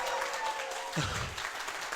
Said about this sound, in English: we can start with a noisy applause